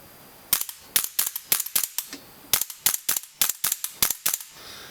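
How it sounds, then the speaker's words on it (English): Airsoft Viper Tech 2011 M4 RAS rifle firing on semi-automatic: about sixteen sharp, close snapping shots in two irregular bursts of quick single pulls, each crack clean with a brief tail. "So this is the gun on semi."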